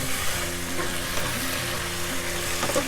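Cinnamon being stirred into a sizzling Greek moussaka meat sauce in a pan, a dense, continuous close frying hiss with soft stirring movement underneath and no talking.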